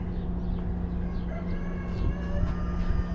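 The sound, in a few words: rooster crowing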